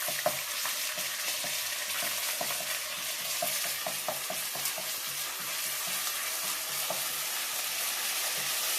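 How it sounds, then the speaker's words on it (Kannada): Ginger garlic paste frying in a pan for a crab curry, a constant bright sizzle with light, frequent spatula stirs and scrapes, close up, no voices. "ಶುಂಠಿ ಬೆಳ್ಳುಳ್ಳಿ ಪೇಸ್ಟ್ ಹಾಕ್ಕೊಂಡು ಹಸಿ ವಾಸನೆ ಹೋಗೋವರೆಗೂ ಚೆನ್ನಾಗಿ ಫ್ರೈ ಮಾಡೋಣ"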